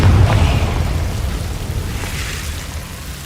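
A Confringo fire spell bursts in Hogwarts Legacy gameplay, a loud low boom that opens the moment and fades into a rumbling, crackling tail.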